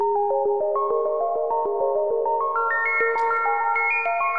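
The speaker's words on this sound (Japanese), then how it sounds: "アルペジエーターもランダムとか、いろんなパターンがあるんですけれども、ランダムにしておいて" A Roland AIRA Compact S-1 synthesizer, a small polyphonic synth based on the SH-101, plays a held arpeggiator pattern in random mode, a steady stream of short, evenly pulsed bright notes hopping unpredictably in pitch, alone and loud.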